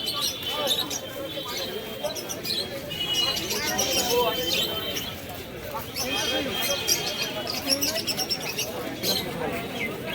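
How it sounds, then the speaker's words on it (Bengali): Soft pigeon cooing and fluttery bird calls from mixed breeds of pigeons for sale, including Giribaz and Madras, at a busy village market, with people chattering in the background throughout. "গিরিবাজ, ম্যাড্রাস, বিভিন্ন রকম পায়রা এখানে মিক্স আছে।"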